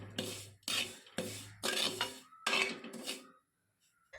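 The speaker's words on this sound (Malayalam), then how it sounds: "സേമിയയുടെ കളർ അത്യാവശ്യം മൂത്ത് ചുവന്ന് വരുന്നത് വരെ കുറച്ചധികം നേരം തുടർച്ചയായിട്ട് ഇളക്കി മൂപ്പിക്കേണ്ടതായിട്ട് വരും" A spoon scrapes and stirs vermicelli roasting in a traditional uruli pan for Kerala semiya payasam, several bursts of rasping metal-on-metal strokes in a rough rhythm, close and fairly quiet, then a pause.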